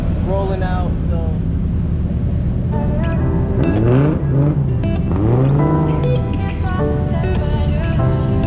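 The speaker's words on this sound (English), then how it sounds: "We got some of the cars out here rolling out" Rally cars roll out at the start of a gravity rally launch, engines revving and swelling as they pass close by, with wind buffeting the microphone and people talking over the motor noise.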